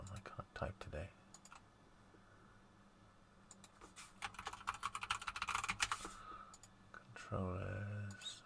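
Fingers type on a computer keyboard in quiet, close clatters: a few early clicks, a pause, then a rapid, dense burst of keystrokes before a brief low thud.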